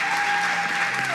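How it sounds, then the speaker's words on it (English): An audience at the season finale of a national science competition in Kenya claps for the winner, a short dense burst of applause heard alone. "a resounding round of applause to Jemima"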